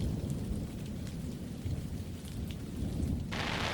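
Rain falls at night in the Utah backcountry near Blanding, a steady, close, dense hiss with a low rumble beneath it and no voices.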